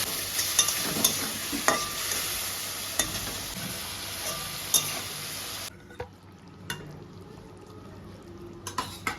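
Potatoes with spices frying in a pan sputter and hiss steadily, with periodic sharp utensil taps against the pan; the sizzle drops noticeably softer partway through while the scraping and tapping continue.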